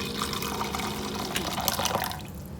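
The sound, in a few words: hot water poured into dried stock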